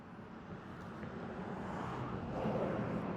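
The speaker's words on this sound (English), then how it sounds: "You can hear the cars going by." Cars going by on a road outdoors at sunset, a faint, distant rush of traffic that swells gradually louder toward the end, with no talking.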